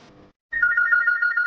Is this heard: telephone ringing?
yes